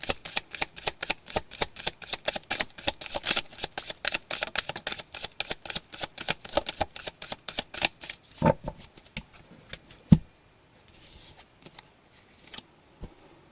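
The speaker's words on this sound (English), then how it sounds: "That was my bad shuffling." Tarot cards are shuffled in a rapid riffling run of dense, crisp clicks, slowing and thinning toward the end, with a few soft taps after, close and alone.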